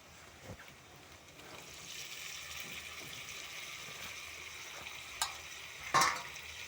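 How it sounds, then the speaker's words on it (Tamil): A soft, steady sizzle of chopped tomatoes sautéing in a pan, with a few scraping stirs and clinks breaking through near the end. "இப்போ இதையும் நல்லா வதக்கிக்கலாம்."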